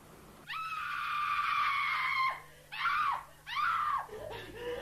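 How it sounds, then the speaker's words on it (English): An actress screams inside a flat for an acoustic test, one long piercing scream followed by two shorter shrieks, loud and close with no talk. "Independent acoustic consultants recorded her scream on tape"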